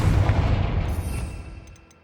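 A Confringo blasting spell explodes in Hogwarts Legacy, a loud, close burst with a rumbling low boom that decays over about two seconds.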